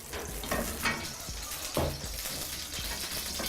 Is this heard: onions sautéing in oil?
yes